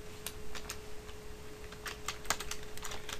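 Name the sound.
typing on a computer keyboard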